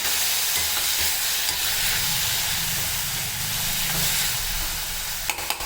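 Onion and tomato sizzle loudly in a hot pan, a continuous close hiss with occasional stirring scrapes near the end.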